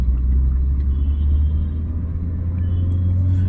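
A car's engine gives a steady low rumble as it gently speeds up during a driving lesson on a narrow road, heard from inside the cabin, continuous and fairly loud with no talk.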